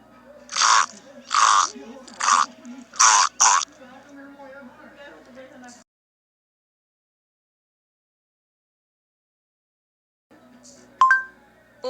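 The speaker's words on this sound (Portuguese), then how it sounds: "Este é o som de uma foca." A seal gives five loud, evenly spaced barking pulses followed by a softer trailing call, then falls silent before a brief faint sound returns near the end.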